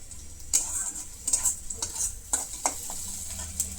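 Onions frying in a pan, a steady high sizzle broken by repeated scraping stir strokes and light clinks of utensil on metal, close and with no talk.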